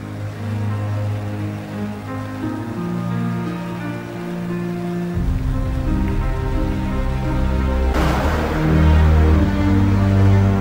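Rain falls at night along the route of the Spartathlon ultramarathon in Greece, a steady dense patter that swells louder partway through, with no voices.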